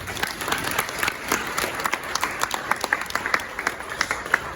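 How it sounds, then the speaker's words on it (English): Applause from a crowd at a Czech-Ghana event as a president takes his seat, with steady clapping of many hands at close range, alone without talk. "Let's keep the round of applause going as he takes his seat."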